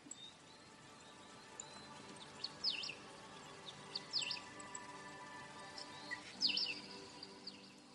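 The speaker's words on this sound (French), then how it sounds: "Le chant discret des oiseaux t'enveloppe." Soft birdsong in a calm outdoor setting among trees, with three short, faint chirp phrases spaced a few seconds apart over a quiet, steady background.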